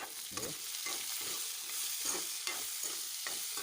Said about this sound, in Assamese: ধুনীয়াকৈ এবাৰ মিক্স কৰি দিম